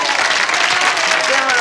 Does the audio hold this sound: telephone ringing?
no